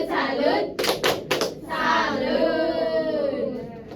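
Fourth-grade class doing a rhythmic 'tepuk salut' clapping cheer: a few sharp, loud claps in a quick cluster early on, with children's voices chanting around them.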